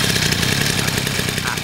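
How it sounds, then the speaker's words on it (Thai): The small engine of a Mitsu Heavy Duty T200 brush cutter runs just after a pull-start, with a steady, close, buzzing idle throughout. "จะลองเครื่องให้ดูก่อน ลองดึง"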